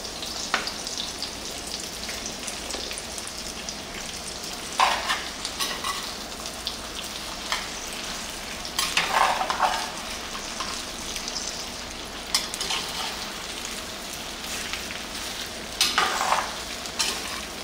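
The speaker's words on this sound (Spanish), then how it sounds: "aquí lo vamos a estar friendo, hay que estarlo moviendo" Steady sizzling of mango frying in a pan with onion, with occasional scraping and clinking as it is stirred at a few irregular moments, close by.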